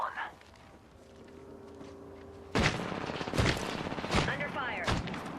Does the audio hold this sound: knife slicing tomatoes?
no